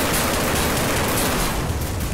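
Dense automatic gunfire rattles continuously in a Garry's Mod multiplayer game, a loud, unbroken burst of rapid shots that fills the whole moment with no pauses.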